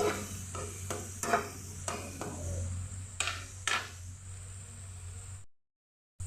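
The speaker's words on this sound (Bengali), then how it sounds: "মশলাটা দিয়ে দিয়ে এটাকে ভালো করে কষিয়ে নেব।" Banana flower with spice paste fries in a pan for mochar ghonto, soft sizzling under repeated spatula scrapes and stirring strokes, close up, before cutting to silence near the end.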